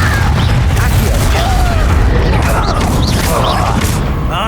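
A Confringo blasting spell goes off in the video game Hogwarts Legacy, heavy booming explosion and crashing debris rolling continuously under loud battle noise, with a voice speaking over the din.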